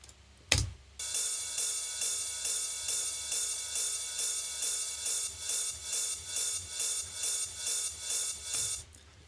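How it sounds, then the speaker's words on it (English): Ride cymbal in an electronic track, played without LFO modulation: a steady loop of bright, shimmering metallic hits at an even rhythm, about two per second, heard alone and up close for roughly eight seconds. "ride is an instrument that I always use"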